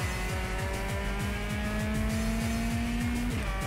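Race car engines drone steadily close behind in a touring-car racing game at Interlagos, their note climbing through the gears with a sawtooth rhythm as each shift drops the pitch.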